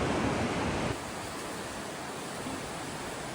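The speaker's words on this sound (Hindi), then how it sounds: "यह है मंदाकिनी नदी" The Mandakini river rushes near Rambara on the route to Kedarnath, a steady broadband roar of water that dips slightly in loudness after the first second and continues evenly, with no voices.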